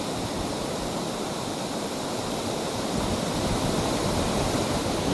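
A big waterfall roars steadily in the open air, a dense, unbroken wash of falling water that stays loud and close throughout with no voices.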